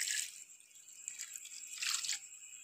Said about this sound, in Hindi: ये हमने इसमें 1 कप पानी डाल दिया है।